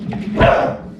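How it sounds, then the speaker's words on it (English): A German Shepherd and a Shih Tzu play indoors, and a single sharp, close bark rises briefly out of quiet room noise. "My German Shepherd wants to play and my Shih Tzu is not having it."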